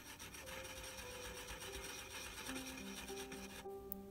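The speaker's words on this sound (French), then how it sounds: "maintenant je vais quand même déjà essayer de passer un petit coup avec la mèche" A rotary tool fitted with a tiny bit scrubs concretions off a found coin, giving a faint, continuous close-up rasping and grinding with shifting pitch for a few seconds.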